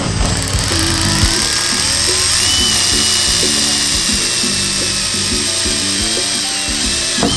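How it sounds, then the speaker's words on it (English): A small pilot drill bores into a Subaru car door panel, a high whining motor spinning in short repeated bursts with stops and restarts, close and loud. "First I start with a really small pilot drill so we don't walk away from that punch mark."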